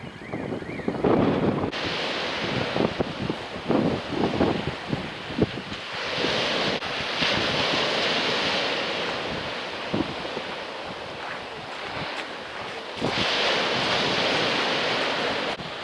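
Waves washing onto a sandy, dune-backed beach at the entrance to Chichester Harbour, a broad continuous roar of surf mixed with heavy wind buffeting the microphone, rising and falling in strength throughout.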